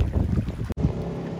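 A boat moves on a lake in New Zealand, a steady low rumble of motor and water with wind buffeting the microphone, broken by one brief cut.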